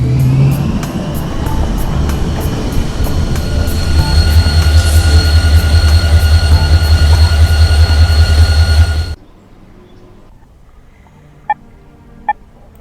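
A subway train in the video game AR-K rumbles past loudly with a steady low roar and rising whine, then cuts off abruptly into near silence broken by two faint clicks.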